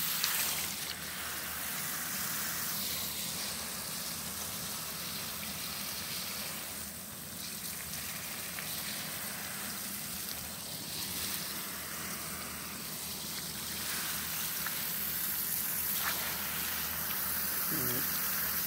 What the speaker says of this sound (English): And see this way, water this flower.